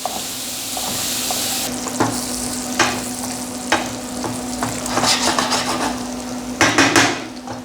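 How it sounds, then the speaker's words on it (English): About eight slices of bacon sizzle steadily in a pan as they render down, a constant frying hiss broken by clanks and stirring scrapes of a utensil against the pan. "we have about 8 slices of bacon that we're gonna start rendering down"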